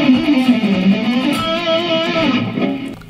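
Fast guitar passage picked with a plectrum, a dense continuous run of quick notes ringing out for about three seconds with no talking.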